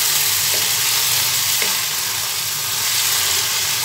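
Spice masala with tomatoes frying down in oil for a spicy brain bhuna, a dense, even, close sizzle that holds steady throughout with only a couple of faint taps.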